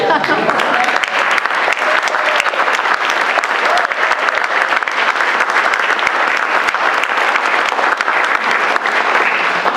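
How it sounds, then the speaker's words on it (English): Audience at a town meeting breaks into sustained applause, a dense, loud wash of many hands clapping without pause for the full stretch. "don't applaud, but David Culp deserves it"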